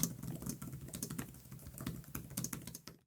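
Quick, busy typing on the detachable keyboard of an Asus ROG Zephyrus Duo laptop, with dense, close clacking keystrokes throughout and no talk.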